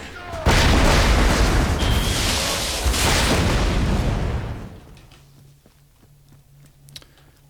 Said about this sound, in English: His explosions seem much louder than normal.